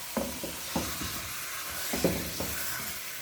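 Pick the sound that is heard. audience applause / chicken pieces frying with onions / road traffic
chicken pieces frying with onions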